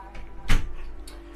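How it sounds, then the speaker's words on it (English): The door of a Kedron AT5 21ft off-road caravan is shut with one quick, solid close near the middle, over a steady low background hum. "So I might just shut this door,"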